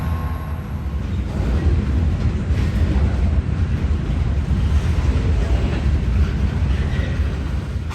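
An EMD GP38M diesel locomotive, number 2152, rolls past with a steady, heavy low rumble and broad rushing noise that holds evenly for several seconds, fairly close and with no voices.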